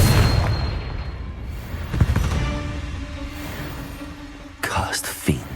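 Confringo spell blasts in the Hogwarts Legacy video game: a few booming bursts, one near the two-second mark and a sharper pair at the end, over dense rumbling combat noise.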